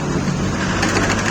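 A small home sewing machine runs with a loose nut, making a loud, continuous, dense rattle heard close up and alone.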